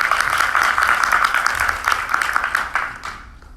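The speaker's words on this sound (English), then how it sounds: "So if we can give Namat another round of applause." Audience applause at an event on genocide prevention and human rights, a dense burst of many hands clapping close and steady before tapering off near the end.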